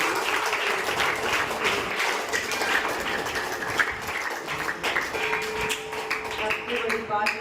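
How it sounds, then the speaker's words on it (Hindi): An audience at a knowledge-symposium lecture gathering at Shri Nandishwar Vidyapeeth in Khaniyadhan gives the speakers a sustained round of dense, steady applause, with some voices mixed in. "जिन वक्ताओं ने गोष्ठी बोली है उनके लिए एक बार जोरदार ताली बजा दो"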